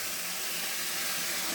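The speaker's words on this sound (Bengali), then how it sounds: "একটু গরম পানি দিয়ে দিলাম" Hot water poured into a pan of koi fish curry cooking with mustard paste, giving a steady close hiss and sizzle that holds for a moment and swells slightly at the end.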